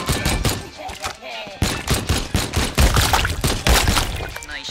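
Gunshots in the VR shooting gallery game Shooty Fruity, a quick series of sharp cracks and shattering hits, loud and close, with a voice talking between them.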